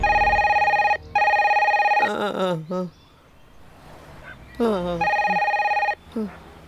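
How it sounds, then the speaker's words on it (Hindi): An old-style telephone bell rings in loud repeated bursts, cut off between rings, while a voice speaks in the gaps. "जब भी इस फोन की घंटी बजती है"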